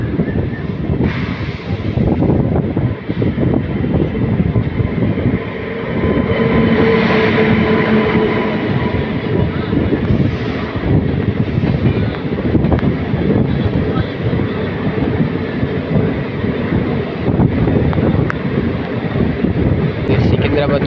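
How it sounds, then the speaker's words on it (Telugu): Secunderabad express train rolling past, a sustained loud rumble of wheels and engine near the line, with voices talking over it throughout. "సికింద్రాబాద్ నుండి షాల్మాన్ వెళ్ళే ఎక్స్ప్రెస్"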